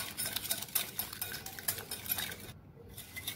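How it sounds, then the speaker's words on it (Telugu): A whisk beats melted butter into ragi oats muffin batter in a bowl, producing quick rhythmic clinks and scrapes against the sides, quiet and close, with a brief pause near the end. "బటర్ కూడా మిక్స్ అయ్యే వరకు విస్క్ చేయాలి."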